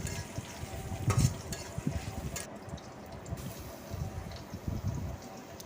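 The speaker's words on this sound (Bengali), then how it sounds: "কুচো করে রাখা রসুন দিয়ে দিলাম, দেন ভেজে নিচ্ছি।" Chopped garlic fries in a pan for a Bengali stir-fry of data shak greens with naga chili, giving a steady low sizzle and bubbling with occasional stirring scrapes, fairly soft and close, with no talk.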